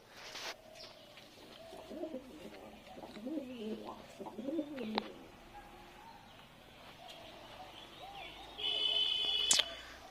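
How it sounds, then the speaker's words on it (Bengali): Fantail (lakka) pigeons cooing indoors in a loft, soft repeated coos near the start and middle with a brief chirp and clatter later, quiet and close with no speech. "আর এই পায়রাগুলো বাইরে যাচ্ছে না, এরা ভিতরেই থাকতে চায়, এরা ভিতরেই মারপিট করতে চাইছে আজকে।"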